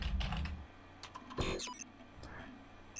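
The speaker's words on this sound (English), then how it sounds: "I'm just gonna type random shit." Quiet clicking of keys on a computer keyboard, typed in short irregular bursts close to the mic, over faint room noise.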